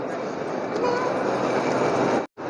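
Low rumbling drone of a train idling at a UK station, steady and fairly loud, then a sudden brief cutout near the end.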